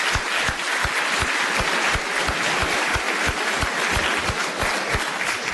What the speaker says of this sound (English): Let's give them another round of applause and thank them for being here tonight.